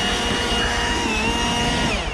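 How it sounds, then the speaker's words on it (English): A leaf blower carried across a hay field on a farm runs steadily and loudly at close range, a continuous whooshing roar with an engine whine and no pauses. "the leaf blower with me"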